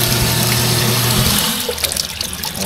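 Water falling and splashing inside a duckling brooding pen, a close, continuous gushing that eases off into softer uneven trickling after about a second and a half.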